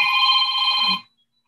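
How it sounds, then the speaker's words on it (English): A phone ringtone of steady electronic tones rings loudly and close for about a second, then cuts off abruptly into silence. "That's a ringtone there, Leonard."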